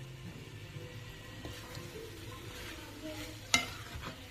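Gongura chicken curry, a thick paste with boiled sorrel leaves and a pinch of pepper, being stirred in a pan: a quiet, steady scraping with faint sizzle and one sharp clink of the spoon near the end.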